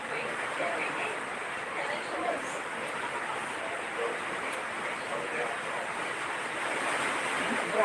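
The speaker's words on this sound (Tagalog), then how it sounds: "Grabe ang hangin, ha?" Strong wind blowing steadily outdoors in Irosin, Sorsogon, Philippines, a broad continuous roar with a surf-like wash of waves, loud and unbroken throughout.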